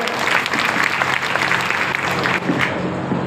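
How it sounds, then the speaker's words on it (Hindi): Loud, dense applause from a large audience at a joint front conference in Bhind, Madhya Pradesh, sustained steadily throughout with faint crowd murmur underneath. "ताली थोड़ी बजा रहे, जोर से बजाओ।"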